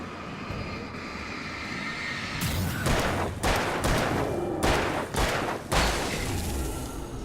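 Gunfire in the video game Alan Wake, a series of loud, booming shots fired in quick succession over a steady background rumble, with no talk.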